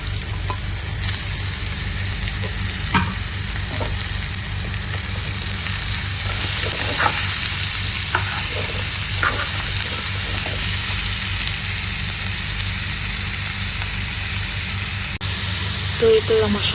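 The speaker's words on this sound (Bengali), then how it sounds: "এবার যে আমি শাকগুলো ঢেলে দিব।" Leafy greens stir-frying in a pan with onion and green chili already fried, a loud continuous sizzle with scraping stirs and occasional clatter, someone speaking over it.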